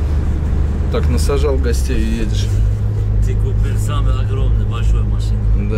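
Inside a moving Daewoo Damas minivan, a steady low engine and road rumble fills the cabin while people talk over it.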